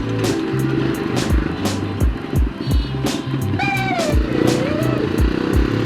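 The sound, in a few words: 1961 Jawa 250 vintage motorcycle exhaust sound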